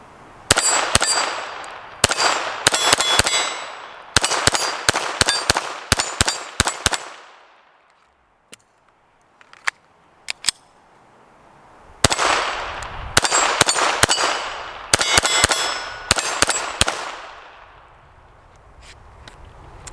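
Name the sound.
FN 502 Tactical 22lr pistol rapid shots on steel targets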